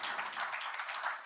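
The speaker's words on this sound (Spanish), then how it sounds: "Un aplauso, por favor." An audience at a recycling panel discussion in Chile claps briefly in a dense, steady burst of applause, moderately distant and alone.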